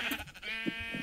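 Sheep bleats from the Minecraft video game, a few short nasal calls in quick succession at moderate loudness over faint game background, with no talking.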